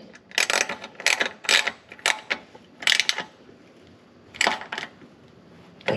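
ACS jacking pucks are tightened in a series of sharp metallic ratcheting bursts, several short clicking runs spaced irregularly with quiet gaps between.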